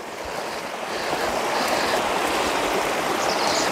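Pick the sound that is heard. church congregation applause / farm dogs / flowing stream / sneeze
flowing stream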